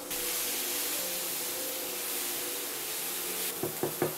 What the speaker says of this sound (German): Da werden wir jetzt gleich unsere Zwiebel hineintun. Die werden wir kurz anrösten.